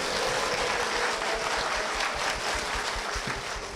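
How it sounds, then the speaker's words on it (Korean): Church congregation at a Korean Full Gospel church broadcast giving hearty applause, a thick continuous roar of many clapping hands sustained at steady loudness for several seconds, with no talking over it. "힘찬 박수 부탁드립니다"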